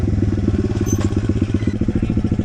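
A dirt bike engine revs hard for a takeoff, with a loud, rapid, pulsing exhaust putter that stays steady throughout, close to the listener, with no talking.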